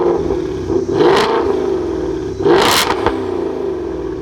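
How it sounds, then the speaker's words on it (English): A supercharged Mustang fitted with a Corsa Xtreme exhaust idles with a rough, throaty rumble, broken by two sharp, loud revs that blip up and fall away. "The Corsa Xtreme exhaust. Wow, this thing's amazing."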